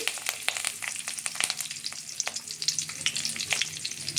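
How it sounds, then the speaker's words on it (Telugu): Green chillies fry in hot oil in a kadai on a stove for egg noodles, making a steady, dense crackling sizzle with many quick pops throughout, close and fairly loud, with no voices. "ఓకే, స్టవ్ వెలిగించుకొని కడాయి పెట్టాను. ఆయిల్, పచ్చిమిర్చి,"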